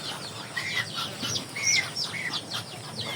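Chickens on a small farm that also keeps ducks and geese cluck and chirp in short, scattered bursts, moderately close over steady outdoor background noise.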